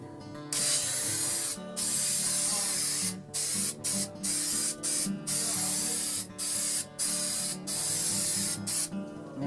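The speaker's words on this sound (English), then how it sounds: "Alright, so we're going to spray this on the back." Repeated hissing bursts from an aerosol can of spray adhesive, long sprays broken by short pauses, close and loud, with a faint rattle in the gaps.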